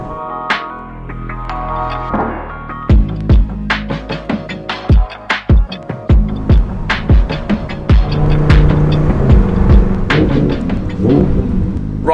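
Lamborghini Huracan Performante on open roads: a deep engine rumble that rises and falls, with a string of sharp, loud revving bursts and upshifts, then a steady, loud roar under acceleration.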